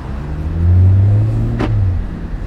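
A 2018 Audi RS4 in dynamic mode, its engine and exhaust giving a loud, deep, close rumble that swells briefly and then settles, with a short sharp click partway through.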